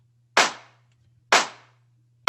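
Layered clap and snare drum samples in a music track, three sharp, bright hits about one second apart, each with a short decaying tail over a low steady hum.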